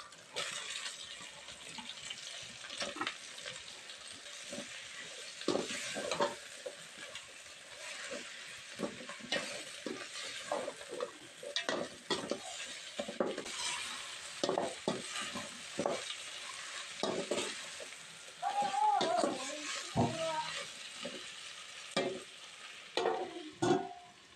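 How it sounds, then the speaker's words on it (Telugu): Onions, tomatoes and green chillies fry for chicken biryani while a utensil stirs them in the pan. Soft sizzling runs under repeated scraping and clattering strokes, fairly quiet, with a brief watery splash near the end. "ఇప్పుడు ఉల్లిపాయలు టమాటాలు పచ్చిమిర్చి అయితే వేసుకోవాలి"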